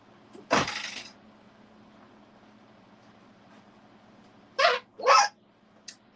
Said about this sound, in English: That's the dog's toy.